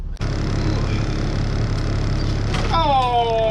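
A Subaru STI engine's steady drone heard from inside the cab fills the space from start to finish, muffled and constant, with a brief bump near the start and a faint whine late.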